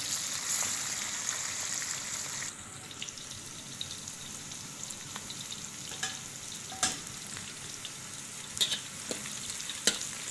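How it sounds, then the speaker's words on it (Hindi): Onions frying in a pan for Kashmiri-style mutton karahi, a soft, steady sizzle with occasional faint stirring clicks and clinks, close but quiet, with no talking. "प्याज हमने अच्छे तरीके से इसको फ्राई करना है। अच्छे तरीके से प्याज को हमने ब्राउन कर लेना है।"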